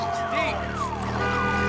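An alarm siren wails in the PS4 game Days Gone, rising and falling tones sweeping loudly over a dense game soundscape, with a voice speaking over it.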